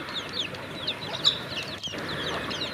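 A mother hen clucks steadily while her newly hatched brood of chicks peeps in a busy high chorus close by, with one sharper squawk partway through.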